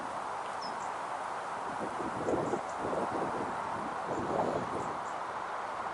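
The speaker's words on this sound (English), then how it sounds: "wind's really strong." Strong wind blows across an open lakeside while carp fishing, a constant broad rushing roar with gusts swelling louder twice, buffeting close against the microphone; no voices.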